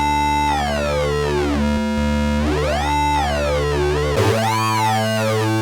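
A Behringer DeepMind 12 synthesizer holds a bright, harmonically rich tone while the DCO2 pitch is modulated. The pitch sweeps up and down in smooth, repeating arcs, with one abrupt jump near the end. It plays loud and alone, with no voices.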